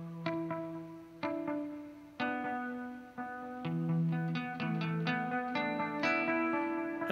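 Guitar notes through a Boss DM-101 analog delay pedal set to its longest delay, each plucked note followed by long, smoothly decaying repeats that blend into a sustained, shimmering wash with no talking.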